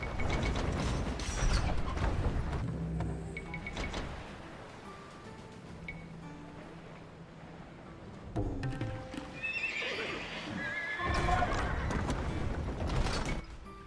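Horses neighing among horse archers in the strategy game Age of Empires 2, several whinnies over clattering hooves, mechanical ratcheting and battle noise, some calls loud and close, others fainter.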